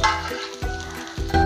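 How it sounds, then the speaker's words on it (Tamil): Small onions frying in coconut oil on a hot stone pan, with a continuous sizzle and a few stirring strokes, close and fairly loud, with no talking. "ஆனியன் வந்து ப்ரௌன் ஆகிறது வரைக்கும் கொஞ்சம் ஃப்ரை பண்ணோம்."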